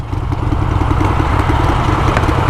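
A motorcycle engine with its exhaust baffles refitted runs steadily and loudly close by, giving a dense, throbbing low rumble with a continuous pulsing rhythm and no speech.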